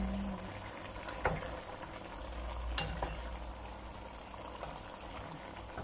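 Calderita chicken with corn cooks in a pan with a soft, steady bubbling sizzle, quiet and close, with a couple of faint clinks over the simmer.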